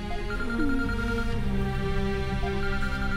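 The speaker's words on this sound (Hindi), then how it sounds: "जगिया का फोन आ रहा है" A mobile phone rings in a scene from a Hindi film, a steady electronic ringtone with a melodic pattern playing continuously over background music, with no talking.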